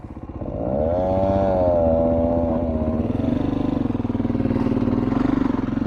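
A Beta 500 RRS motorcycle engine labours up a steep singletrack hill, its revs rising and then holding in a loud, close, rumbling drone that wavers in pitch as it climbs.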